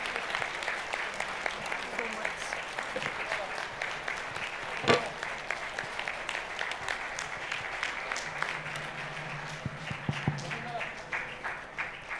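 A crowd claps steadily after a devotional Devi bhajan, a continuous even wash of applause with a few louder knocks, while someone speaks over the clapping.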